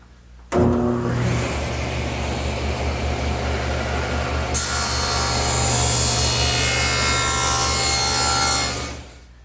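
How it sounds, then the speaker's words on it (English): A table saw bites into wood for a 90-degree cut against a bevelled edge; the blade whine starts abruptly, holds as a loud, steady cutting roar for about nine seconds, then winds down. "make a 90-degree cut to that first bevel that I made"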